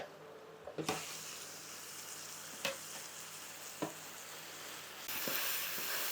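Minced meat frying quietly in a pan for taco fries, a low steady sizzle broken by a few sharp utensil clacks and scrapes, growing slightly louder near the end.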